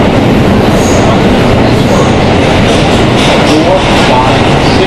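A Kawasaki R160B Q subway train runs underground in New York, giving a loud, continuous rumble with clattering wheels and a rushing roar throughout.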